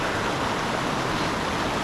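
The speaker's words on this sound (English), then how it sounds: "And here's Dingford Creek." Dingford Creek running boisterously along a hiking trail, a steady full-band rush of water close by with no pauses or other sounds.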